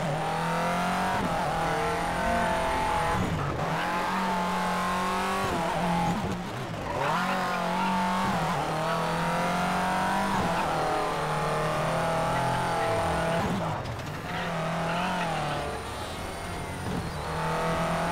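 A Mitsubishi Evo rally car in Colin McRae: DiRT revs hard and loud up close. The engine climbs through the gears, with short drops during shifts and lifts before it pulls again.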